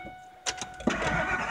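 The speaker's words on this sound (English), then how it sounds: "Oh my gosh, it started!" A balky truck engine turns over after the key is twisted fully, cranking briefly before catching into a close, rough running rumble in a short burst.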